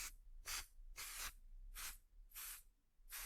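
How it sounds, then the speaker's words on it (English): A spray bottle mists a fabric flower applique for a watercolor quilt in six short, crisp hissing bursts, evenly spaced and close, with quiet pauses between them. "lightly spray my flower"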